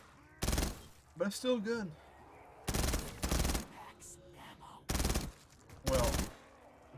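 Gun firing in Black Ops 3 Custom Zombies, heard as six sharp, loud bursts spread through the clip at roughly one-second gaps, with someone talking briefly between them.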